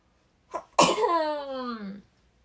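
A single sneeze during a live-streamed chat: a quick sharp intake, then a loud burst trailing into a drawn-out, tonal vocal tail lasting about a second, close to the microphone with no other talk.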